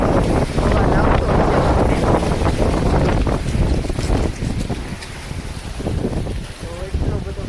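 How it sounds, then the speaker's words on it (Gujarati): Strong storm wind in Surat roars and buffets the microphone in loud, continuous gusts that ease slightly toward the end, with a voice briefly heard under it. "તો એટલો બધો પવન આવે છે"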